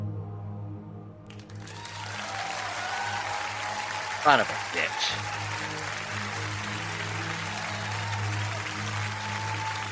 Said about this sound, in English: And then you hear thunderous applause.